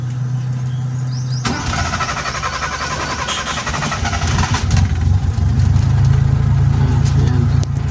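A Kia Pride car engine cranks and catches with a sudden loud burst, then settles into a steady, close, rumbling idle that grows slightly louder toward the end.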